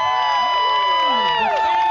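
An audience cheering at a live music festival performance for a singer, a loud sustained crowd roar with high whoops and shouts filling the moment.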